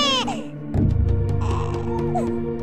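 An infant cries in a house in an animated Bible story about baby Moses, with wavering, high wails after a musical passage and soft background score.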